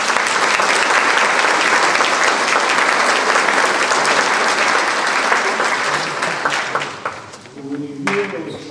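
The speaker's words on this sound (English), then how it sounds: "So I'll give a round of applause for Chloe." A crowd at a naturalization ceremony applauds loudly and steadily for several seconds, then the clapping fades as a voice begins to speak.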